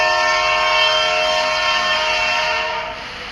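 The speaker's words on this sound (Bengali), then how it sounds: "ট্রেনের শব্দ আসে কোথা থেকে?" A train passes close by, sounding a loud, sustained horn over the heavy rumble of the rail cars, then fades slightly at the end.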